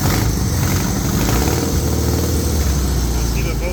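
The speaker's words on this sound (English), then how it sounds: "once you rev it, these things work on a rev system" A 1600cc dual-port VW engine in a street-legal dune buggy runs close by with a dense, throaty, loud rumble, rising slightly as it revs, while someone talks over it.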